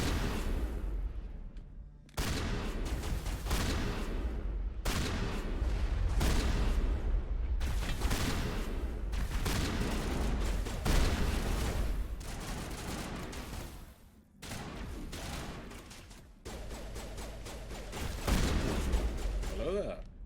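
Shotgun fire in Mass Effect Legendary Edition, loud and heavy: repeated blasts and bursts of combat noise separated by short silent gaps, with rumbling low-end reports throughout.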